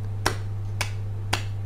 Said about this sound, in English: There's a wee golf clap for you.